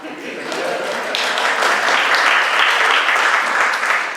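Students in a university forum audience clap steadily for several seconds, a dense, even patter of many hands at moderate volume.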